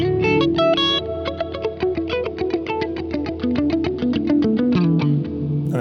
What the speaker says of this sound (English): If I turn it all the way up, you hear all that low end come back in the reverb